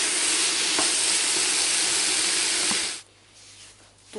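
Meat filling for a stuffed galette sizzles loudly and evenly in a hot pan, then cuts off abruptly after about three seconds, leaving only faint quiet background.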